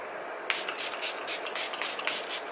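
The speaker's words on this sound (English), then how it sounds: "I'm going to be using my Milani Make It Last setting spray" Milani Make It Last setting spray mists onto a face in a quick series of about six short pressurized hisses after a brief pause, close and fairly loud.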